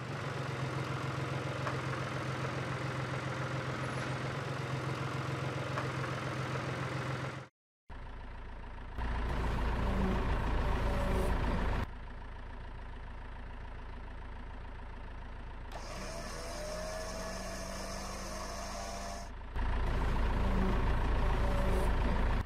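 A truck engine idles with a steady low rumble, then cuts off abruptly; afterwards come quieter stretches of engine and mechanical noise, with a louder rumble returning near the end.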